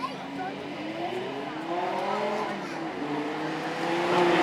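A Lamborghini Superleggera with a 5.2-litre V10 drives on a race track at a supercar weekend, its engine note rising steadily under load and growing slightly louder toward the end.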